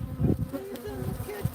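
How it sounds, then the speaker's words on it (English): Bees loose in a kitchen, a close droning buzz that wavers in pitch as they fly around, fairly loud and steady with no talking. "so, Hosh, there are bees in the kitchen."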